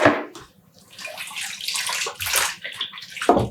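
Yarn is dunked in water in a dyeing container, making close splashes and sloshing in a couple of bursts with short quieter gaps between them.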